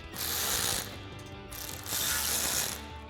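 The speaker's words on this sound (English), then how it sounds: "Tighten this down with our 5mm Allen head." Aluminum RedRock roof rack bolts on a 2024-2026 Toyota Tacoma are tightened with a 5mm Allen head, giving two close, loud bursts of rapid ratcheting clicks separated by a brief pause.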